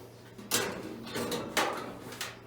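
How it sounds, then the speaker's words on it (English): Drawer beneath a kitchen range pulled out, a few rumbling slides and thumps close by, moderately loud with uneven scraping between the knocks. "If you pull that drawer out of the bottom of any range, it'll go straight back to the wall."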